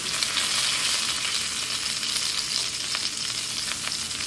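Steady, dense sizzling of Brussels sprouts frying in a hot pan, continuous and fairly close with no pauses.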